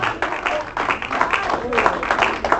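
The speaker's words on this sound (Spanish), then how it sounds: "Denle un aplauso al que vive." A church congregation applauding during a sermon, with uneven bursts of clapping close by that rise and dip over a couple of seconds.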